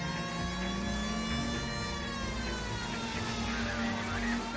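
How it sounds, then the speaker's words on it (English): A siren in the video game L.A. Noire wails steadily throughout, its rising and falling tone sustained over a constant engine-like drone, loud and close. "Whose siren is that?"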